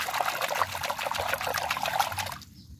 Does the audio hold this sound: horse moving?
no